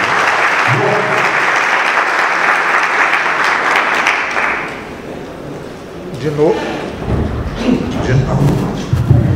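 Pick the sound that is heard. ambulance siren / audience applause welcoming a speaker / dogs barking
audience applause welcoming a speaker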